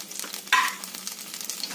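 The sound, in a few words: cumin seeds sizzling in hot oil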